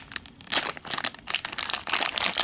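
A small plastic bag of cheap jewellery crinkles and rustles loudly as it is handled and opened, in irregular bursts of crackling close to the mic, with no talking.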